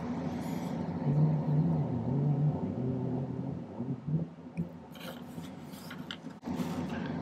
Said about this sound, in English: So let's start by filing the end flat.